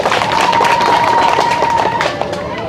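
A crowd of villagers at a political gathering in Sawararou, Benin, applauds steadily, with many hands clapping at close range and a sustained tone running through the applause.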